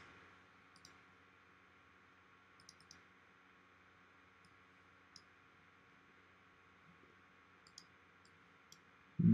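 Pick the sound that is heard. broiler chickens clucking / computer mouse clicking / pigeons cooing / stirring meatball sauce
computer mouse clicking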